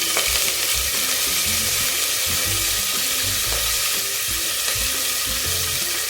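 Green chilies and curry leaves crackle and sizzle in hot oil in a pan, a continuous bright frying hiss with soft stirring knocks underneath and no talking.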